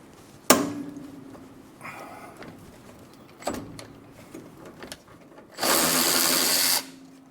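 A socket tool works on the front shock absorber of a 1957 Chevrolet Bel Air during a suspension rebuild, giving sharp metallic knocks, a few softer clatters and then a loud, steady whirring burst of about a second, close by.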